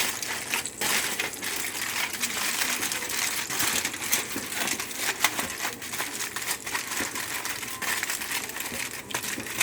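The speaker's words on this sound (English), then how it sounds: "So now we'll go ahead and take the foil, come up with it." Aluminum foil is crinkled and folded around food for a toaster oven, a continuous close crackling and crumpling with brief sharper crunches throughout.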